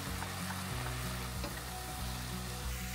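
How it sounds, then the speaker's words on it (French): Nettles go into a well-oiled pan with mushrooms and onions, giving a steady, close sizzle with faint stirring scrapes throughout and no voices. "J'ajoute les orties."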